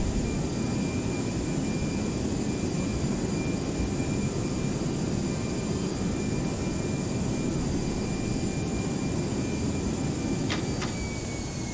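Jet airliner cabin during landing rollout with reverse thrust, a steady loud broadband engine roar that holds throughout, with two faint clicks near the end.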